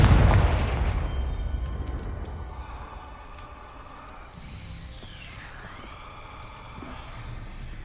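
A Confringo spell blast in Hogwarts Legacy goes off with a loud, booming burst at the start, then a low rumbling tail and crackling magical effects fade over several seconds, with no talking.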